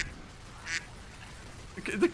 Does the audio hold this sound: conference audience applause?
no